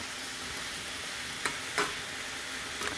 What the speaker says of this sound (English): Just let it cook a little bit.